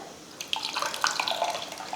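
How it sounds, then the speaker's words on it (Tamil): Tamarind water pours into a cooking pot, a splashing liquid stream starting abruptly and running steadily for over a second, close and fairly loud. "புளி தண்ணி ஊற்றியாச்சு."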